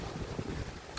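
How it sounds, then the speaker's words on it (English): Wind blowing outdoors on a very windy day, a steady faint rush and buffeting against the microphone with no distinct gusts, alone. "it's very, very windy right now"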